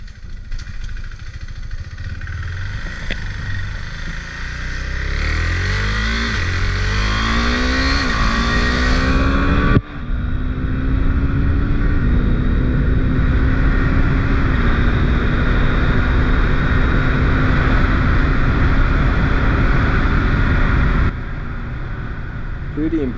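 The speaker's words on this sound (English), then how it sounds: "Here is a wide open throttle acceleration." Husqvarna 401 motorcycle at wide open throttle, engine revving hard and climbing through quick-shifted gears, loud and sustained with a rising pitch, close to the microphone.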